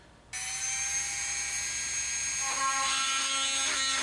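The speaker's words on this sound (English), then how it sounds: "I drill a hole here" An electric drill starts abruptly and whines at a high, steady pitch, shifting tone slightly as it bites into material, close by.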